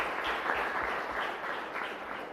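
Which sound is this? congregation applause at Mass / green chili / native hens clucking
congregation applause at Mass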